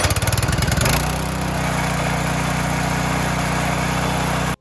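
A small engine idles steadily after its crankshaft oil seal was replaced, settling from a rougher first second into an even, loud, continuous hum close by.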